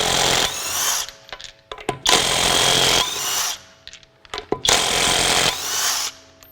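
A Kobalt 24-volt brushless mid-torque 1/2-inch impact wrench with auto slow off hammers loudly in three bursts of about a second each, separated by short pauses with small clicks and handling noises.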